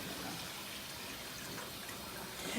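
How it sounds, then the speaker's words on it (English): Water is poured into a hot pan while cooking smothered pork chops, a steady soft gushing hiss that runs evenly for a couple of seconds, faint and alone. "And more water to the pan."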